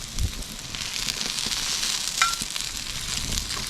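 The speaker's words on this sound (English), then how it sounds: "We're going to smash the burgers on them" Smashed burgers sizzle and fry on a hot outdoor grill, a steady broadband crackle with a few brief scraping and spatula accents, close and continuous.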